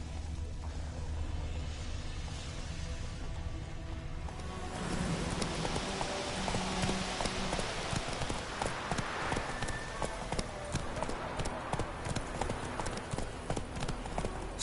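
Hooves of the horse Roach galloping in the video game Witcher 3, a rapid clip-clop rhythm that grows busier and louder halfway through, over a soft rain-like hiss.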